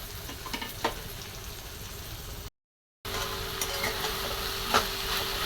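Fenugreek (methi) leaves hit a hot pan for a potato and dal sabzi, giving a steady, close frying sizzle with light stirring that cuts out briefly, then returns louder and denser.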